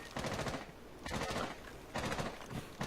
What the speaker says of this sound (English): Everybody's just pre-firing windows and such